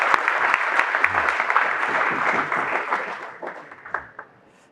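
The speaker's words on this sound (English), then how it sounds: "Let us give him a big round of applause." Audience applause for a guest at a university talk, a steady burst of clapping from many hands that thins out and fades to a few scattered claps at the end.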